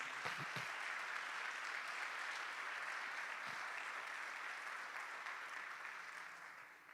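A church congregation gives sustained, dense applause that holds steady and fades slightly toward the end, with a few close claps standing out at the start.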